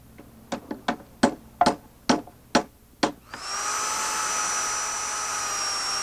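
Eight sharp hammer-like knocks ring out, then a power drill whines steadily as it bores through a wooden post for a carriage bolt securing a pressure-treated 2x8 frame piece.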